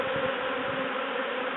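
A swarm of bees from a top bar hive gives off a steady, dense buzzing drone that stays close and loud without a break.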